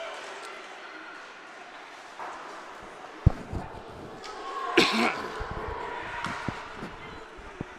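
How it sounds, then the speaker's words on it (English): A hockey commentator who has been fighting a cold gives a single sharp, close cough amid the background noise of a rink, with scattered thumps and knocks around it. "You'll have to excuse my cough there"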